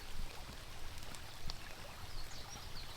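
Brown rainwater runoff pours through a lake's downstream sluice, a continuous broad rushing and splashing flow heard fairly close, steady without breaks, fainter than the surroundings' loudest moments.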